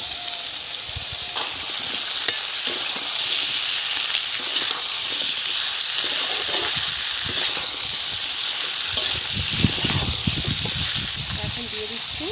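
Potatoes and onions fry in a pan, giving a steady close sizzle broken by occasional stirring scrapes and clinks.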